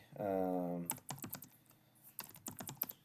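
Fingers tap on a computer keyboard in quick, uneven bursts of close clicks, after a short opening tone, while a person types up picks for a UFC fight night.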